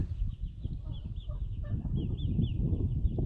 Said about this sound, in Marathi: कोंबड्या छानपैकी पाणी पित आहेत